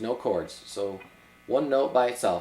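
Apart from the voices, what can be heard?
No everyday noises stand out.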